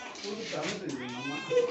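Kittens mew repeatedly in high, plaintive cries at close range inside a home, while a person talks soothingly over them.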